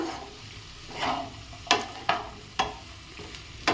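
Ivy gourd stir-fried in a pan, with a steady soft sizzle under several sharp scraping strokes of a spatula that come at irregular intervals, close and moderately loud, with no talking.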